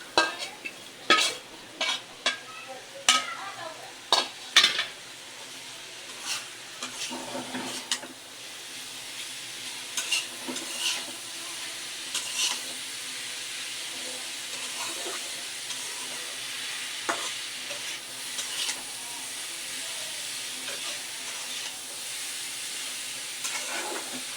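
A spoon clinks and scrapes against a pot, then a steady soft sizzle and bubbling of greens cooking continues with occasional knocks.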